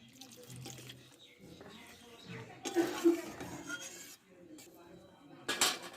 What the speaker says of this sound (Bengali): একটু জলটা বেশি দিব